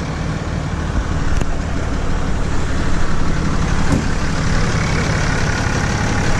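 A Cummins diesel truck engine revs up and holds a loud, steady roar at close range, with broadband rumble and no speech over it.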